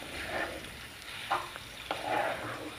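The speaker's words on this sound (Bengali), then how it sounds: "এখন চিকেনটাকে ভালো করে ফ্রাই করে নেব।" Minced chicken frying in a pan, a quiet steady sizzle with a few soft stirring scrapes and taps rising above it, fairly faint throughout.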